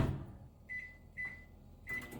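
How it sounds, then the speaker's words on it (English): A microwave oven heating a 12-ounce bag of semi-sweet chocolate chips sounds three short, clear beeps at a steady spacing over a low hum. "And I am going to microwave the whole bag."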